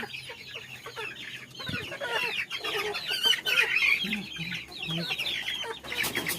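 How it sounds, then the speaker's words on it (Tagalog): A flock of chickens clucks and squawks continuously nearby, many overlapping calls, with a sharper burst near the end. "Ito mga manok ni Lolo."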